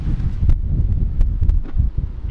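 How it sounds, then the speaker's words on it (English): Strong wind roars and buffets a microphone without letup on a beach in Malindi, Kenya, with low rumbling gusts and occasional rustling; no voices. "it's really, really windy."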